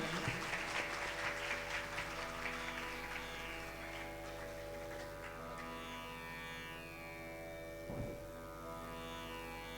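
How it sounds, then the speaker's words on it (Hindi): An audience claps for a guest at a Hindu religious discourse (Shrimad Bhagwat Katha) held in a hall, loud and dense at first, then thinning into steady applause over a sustained musical drone. "जोरदार तालियों से स्वागत महाराज श्री के लिए।"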